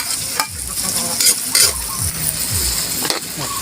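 Onion and chili frying in a pan for sisig maskara, a loud continuous sizzle broken by repeated scraping stirs and utensil knocks.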